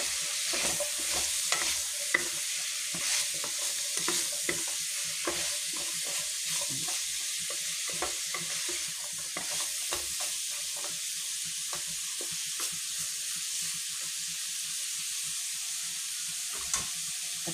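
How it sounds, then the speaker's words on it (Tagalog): Pork, potatoes and carrots for pininyahang pork are stirred in a frying pan, a steady sizzle running throughout with repeated scraping and clacking strokes of the utensil, close and fairly loud. "Haluin natin."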